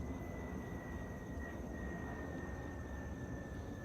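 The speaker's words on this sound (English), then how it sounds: "And the overhead plane, I wonder where they're going." Airplane flying overhead outdoors on a morning, a steady, broad engine rumble drifting across the sky with a faint sustained whine, continuous and moderately distant, no speech.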